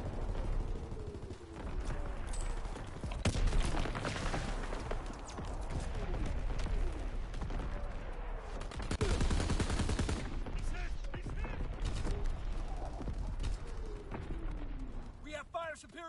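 Gunfire in a Call of Duty WW2 team deathmatch, with scattered shots and rapid bursts, whooshes and impacts in a busy battle mix, while game voices speak over it.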